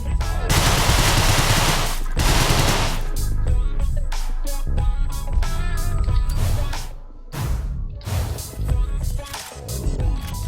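Loud, rapid gunfire from the DeadBolt video game fills the clip in dense bursts. Short pauses break up the volleys.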